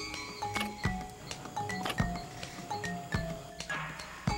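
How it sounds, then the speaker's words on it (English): Sharp clicking and knocking calls from a bamboo lemur come in irregular bursts, with faint tonal squeaks between, moderately close in a quiet natural setting. "That's the sound of a bamboo lemur."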